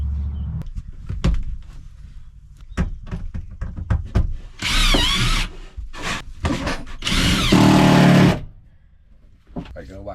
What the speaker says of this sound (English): drill the pilot holes in the end of the battens